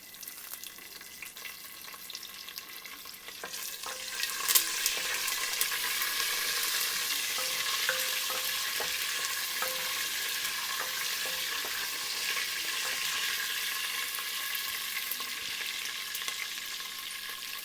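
Mustard seeds, cumin, lentils and garlic sizzling in hot oil for vegetable sambar, a steady loud frying hiss that swells after a few seconds with occasional crackles and pops, no voices.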